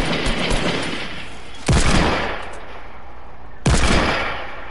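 Gunfire aimed at a platform: two loud, sharp shots a couple of seconds apart, each ringing out with a long decaying echo, after an opening stretch of rattling noise.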